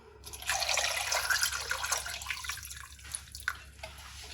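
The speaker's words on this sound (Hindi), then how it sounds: "अब इसके अंदर पानी डाल देंगे।" Water poured into a pot holding rice and potatoes, a steady close splashing rush that tapers into a few light drips, with no talk.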